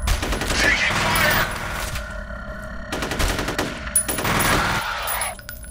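Rapid automatic gunfire and bursts from the shooter video game F.E.A.R. fill the stretch, loud and dense, with repeated volleys and brief gaps between them.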